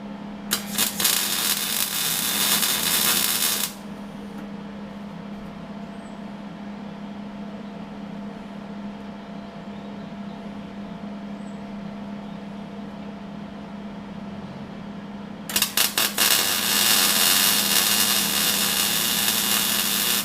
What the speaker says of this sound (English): I'm about to weld in one down at the bottom